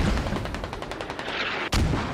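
In the military video game Squad, mortar rounds strike a farming village as a fast, rattling series of explosive cracks, ending in one sharp, heavier blast.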